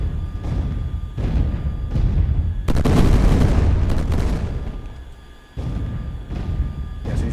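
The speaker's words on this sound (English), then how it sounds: "these cluster bombs spread out and kind of cover a large area at the altitude I'm dropping them at" Cluster bombs going off across a wide area during a ground attack run in the Tiny Combat Arena flight game, a loud sustained barrage of overlapping booms and crackling blasts swelling in the middle, with steady aircraft drone before and after.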